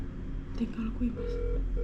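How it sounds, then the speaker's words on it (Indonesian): A phone number is dialed on a keypad, a short run of beeping tones mixed with people talking over them. "Yuk, coba kamu telepon pakai nomor ini."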